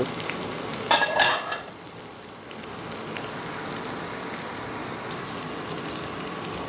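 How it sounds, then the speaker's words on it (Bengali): Fried chicken pieces stirred in a hot wok for crispy chilli chicken: a short burst of scraping and clatter early on, then a steady low sizzle of frying oil continuing alone without talk. "এবার আমি ভেজে রাখা চিকেনগুলো এর মধ্যে কড়াইয়ের মধ্যে অ্যাড করে দেবো এবং ভালোভাবে নেড়ে নেব।"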